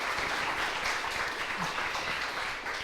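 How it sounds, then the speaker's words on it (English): A conference audience claps in a dense, steady round of applause that fills the room at even loudness and tapers slightly at the end. "and so I'd be round of applause, please."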